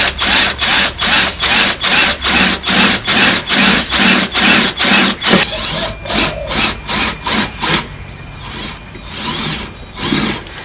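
A power drill bores a hole in the engine bay of a Jeep Cherokee during wiring work, a loud close whine pulsing in rapid regular bursts, slowing and quieting toward the end.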